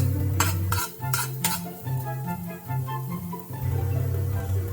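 Onions go into melted butter in a pan for spicy garlic buttered shrimp, with a gentle sizzle under repeated scraping strokes of a utensil and a low steady hum throughout.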